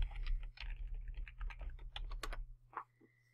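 Keys clatter on a computer keyboard as a username and password are typed, a quick irregular run of close, crisp clicks over a low electrical hum that ends in a final tap and silence.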